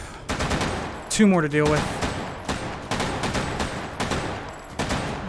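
Gunfire in the VR shooter Hot Dogs, Horseshoes & Hand Grenades in its Take & Hold mode: a string of sharp, loud shots in quick bursts, with someone talking over them.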